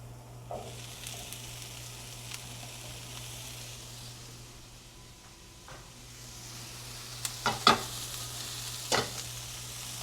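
Dry chickpeas fry in a pan with a faint, steady sizzle over a low hum. Scattered pops and a few sharper crackles come near the end.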